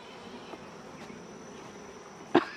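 Honeybees hum faintly and steadily during a beehive inspection, a low continuous buzz with a brief louder knock or bump near the end.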